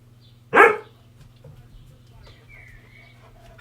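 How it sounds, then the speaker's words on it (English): A single sharp dog bark indoors, loud and close, followed by quiet room tone with faint background sounds. "Nobody is here. Stop barking."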